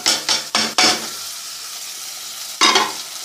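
Chopped garlic sizzles in a pan with browned onions while the cook stirs in several quick bursts, with a steady frying hiss between the stirs and no talking.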